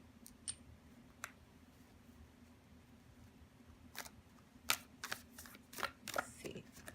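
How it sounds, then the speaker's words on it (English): Tarot cards are shuffled quietly, with scattered soft clicks early on, then a quick run of riffling snaps toward the end over a faint hum. "let's go on and get started shuffling for you"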